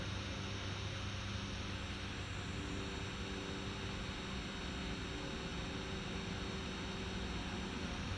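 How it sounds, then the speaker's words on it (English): A biplane drones overhead in the open desert, a steady engine hum and broadband rush holding at an even level throughout with no voices. "biplane will never get old"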